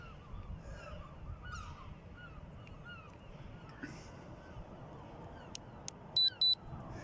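A GD95 drone controller emits two short, high electronic beeps near the end, faint against outdoor wind and distant honking geese, with quiet voices nearby.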